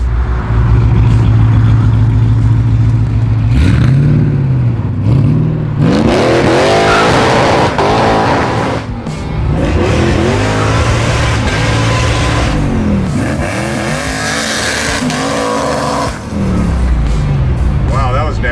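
A supercharged Dodge Dart with a roughly 1,000-horsepower Hellcat engine swap revs hard and roars repeatedly, rising and falling in loud bursts with tire squeal, while people talk and shout nearby.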